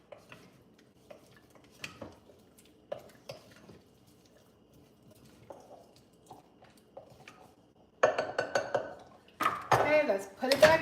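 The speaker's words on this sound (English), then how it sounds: "Let me give them a stir, y'all." A spoon scraping and clinking against a bowl while candy is stirred, soft sporadic taps at first, then louder, busier scraping bursts near the end.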